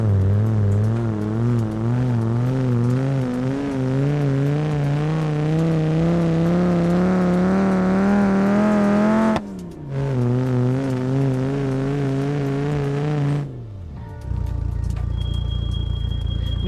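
A cold car engine in BeamNG.Drive, held flat out on the throttle with a turbo, stutters and revs in a steady wavering drone, drops briefly, surges again, then cuts out near the end.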